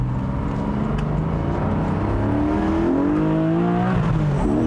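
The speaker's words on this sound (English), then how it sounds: "That's the classic Porsche noise." A 2021 Porsche 718 Boxster GTS 4.0 with its 4-liter flat-six engine rises steadily in pitch as it accelerates, heard loud and close from the cabin with the top down, alone without any talk.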